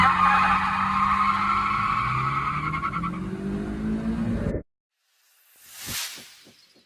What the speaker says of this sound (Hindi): भाई इनके ड्रैग करा रहे हैं होंडा सिटी की और कोरोला एल्टिस की